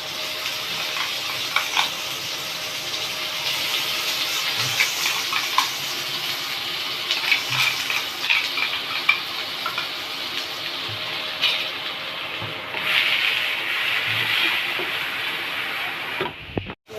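Ginger, garlic and onion paste frying in hot oil, a steady hiss and crackle at close range with occasional stirring scrapes, continuous for most of the length before cutting off abruptly.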